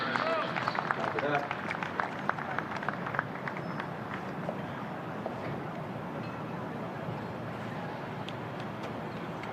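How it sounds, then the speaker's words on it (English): Crowd applause at a high school lacrosse final fills the stands with steady, dense clapping and scattered cheers, while an announcer's voice carries over the top. "A big round of applause."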